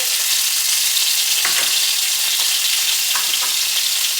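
Minced garlic frying for a homemade spaghetti meat sauce, a loud, dense, even sizzle crackling close by, broken by a few brief scraping stirs, with no talking.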